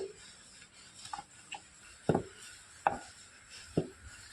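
A rolling pin works pitha dough made from flour and boiling jaggery on a board, giving faint, irregular wooden knocks and taps spaced roughly a second apart in a quiet kitchen.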